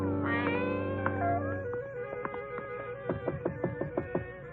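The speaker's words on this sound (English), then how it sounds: "A gray Persian cat followed us." A gray Persian cat meows at close range, with a long drawn-out call followed by a run of short, rhythmic, repeated meows, loud and alone with no talking.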